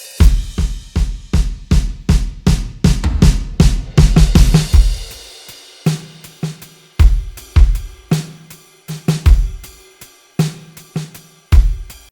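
A loud drum build-up of rapid, driving hits crowds together and then breaks into a looser groove of punchy drum strikes, with a ride cymbal shimmering on top and no voices.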